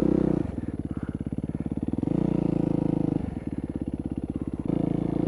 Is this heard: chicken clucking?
no